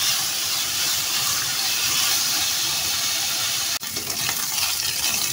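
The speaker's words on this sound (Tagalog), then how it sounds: "Fry lang natin hanggang mag-brown kulay siya." Sliced pork sizzles and fries steadily in a pan until brown, a dense, loud crackle with a brief dip near the end, and no voices.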